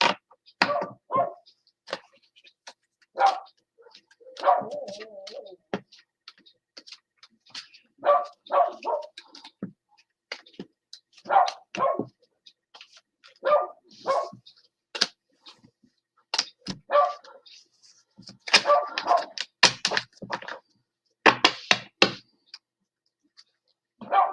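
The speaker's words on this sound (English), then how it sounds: "there's another dog down the way barking" A dog barks repeatedly in short bursts and clusters, fairly close, with brief silent gaps between volleys and no talking.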